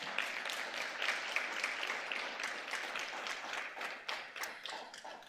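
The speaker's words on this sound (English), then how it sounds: "can you please assist me to welcome him and give him a round of applause?" A steady round of audience applause at a MICT SETA stakeholder engagement event in Cape Town, as a new CEO is welcomed. Dense, continuous clapping carries at an even, moderate level for about five seconds.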